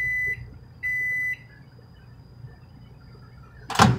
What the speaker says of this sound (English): So there goes our timer